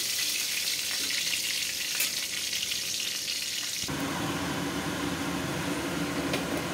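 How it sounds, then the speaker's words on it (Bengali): Fish for mustard hilsa sizzles steadily in hot oil in a pan, a continuous close frying hiss that grows louder and fuller partway through, with no talking. "আমার মাছটা ভাজা ভাজা হয়ে গেছে।"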